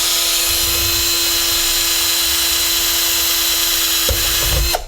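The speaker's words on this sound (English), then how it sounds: "You want to drill them at an angle." A power drill boring holes into an antenna feedpoint for a ham radio setup, a steady loud motor whine with a constant tone, close and alone, easing off briefly near the end.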